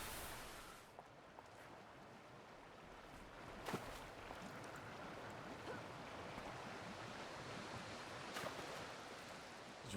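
Rushing water from a waterfall of dirty water in the City of Heroes video game, a steady broadband wash filling the whole stretch with a few brief louder splashes.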